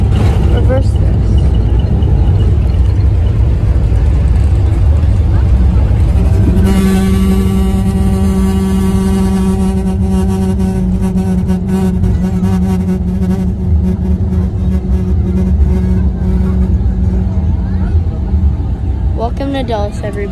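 Boeing 787 Dreamliner on a United landing at Washington Dulles runway 1R: after touchdown the engines spool up into reverse thrust, a loud rising roar with a steady whine over the cabin rumble that holds to the end.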